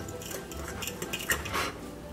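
A spoon stirs a loose paste of shaker cheese and olive oil in a dish, making soft scrapes and a few light clinks, close and quiet.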